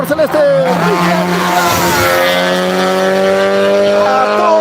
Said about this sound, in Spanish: El rugir de ese motor.